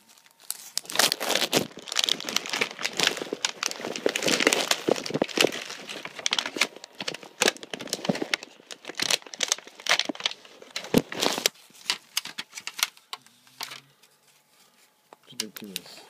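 Loud, close crinkling and tearing of plastic packaging around inari sushi from Toyokawa Inari in Akasaka goes on almost continuously before easing off near the end.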